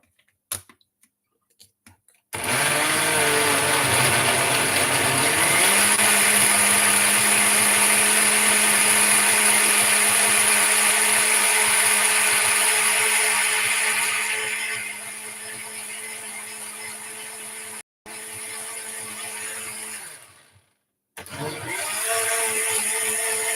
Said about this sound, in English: So let me grind the last batch. You can see it's very fast.